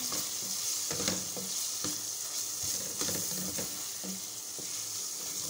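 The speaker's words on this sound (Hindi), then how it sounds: "अच्छी तरह से मसाले को कीमे के साथ मिक्स कर लेंगे। मसाले को अच्छी तरह मैंने भून लिया है।" Minced meat frying with turmeric and dried red chili, a constant hiss of sizzling oil with repeated spatula scrapes and stirs through the mince, close and steady.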